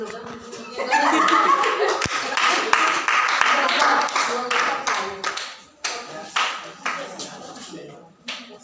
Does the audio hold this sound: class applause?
yes